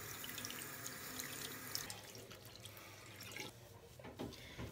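Tap water running over a synthetic wig cap being rinsed in a sink, a steady splashing stream that changes in tone as the cap moves under it, with some drips and gurgles near the end.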